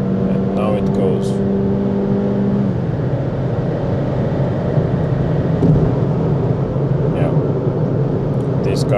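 A 2025 Kia Ceed 1.5 T-GDI is driven hard on the autobahn, dropping from seventh to fourth gear and accelerating at full throttle. Sustained engine drone and road roar build from inside the cabin while someone speaks over it.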